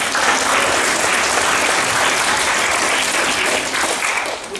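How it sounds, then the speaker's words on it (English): Loud, dense audience applause for the debaters at a debate grand final, a full crowd clapping continuously before tapering slightly at the end. "For Canada, let's give a good round of applause for featured debaters, Dasha, Lily, and Tatiana."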